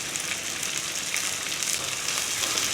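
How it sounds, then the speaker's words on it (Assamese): Salt, turmeric, Kashmiri chili and garam masala fry in a pan for a local chicken and bamboo shoot dish, producing a steady, close, even sizzle with no break and no voices. "এইখিনি ৰঙচুৱা হোৱালৈকে ফ্ৰাই কৰি ল'ম"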